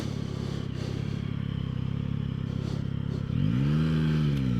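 Yamaha Tracer 9 motorcycle, a 2025 model, pulling hard in second gear, its engine a loud steady drone that climbs sharply in pitch near the end as revs rise, with no talk over it.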